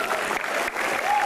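Audience applause at an Indonesian stand-up comedy show, a short dense burst of clapping from the crowd heard close and steady throughout.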